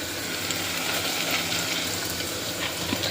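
Prawns frying in a pan with ginger and garlic, a steady loud sizzle close up that holds without a break, with no talk.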